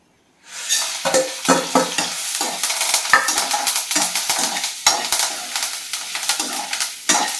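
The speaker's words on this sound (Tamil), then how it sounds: "மல்லி வத்தல் கருவேப்பிலை உளுத்தம்பருப்பு சீரகம் எல்லாத்தையும் இப்போ எண்ணெய் ஊற்றி இதில் வறுப்போம்" Coriander seeds, dried red chillies, curry leaves, urad dal and cumin frying in oil for a mutton gravy, starting abruptly into loud crackling sizzle with repeated rhythmic scraping stirs, close and alone.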